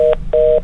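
Telephone tones right after a call is disconnected, two loud electronic beeps, the first short and the second longer, with a brief gap between them and no talk.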